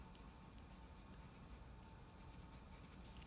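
Pencil stippling on paper, a close, quiet run of light scratchy marking sounds with faint repeated taps, steady for a few seconds with no voices.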